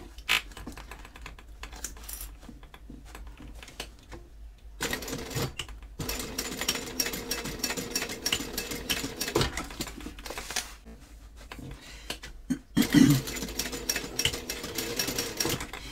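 A sewing machine basting D-rings onto fabric runs in three separate bursts of rapid, steady stitching, with short quiet pauses between them and no speech.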